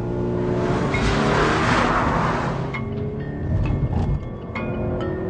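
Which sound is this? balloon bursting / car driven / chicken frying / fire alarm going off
car driven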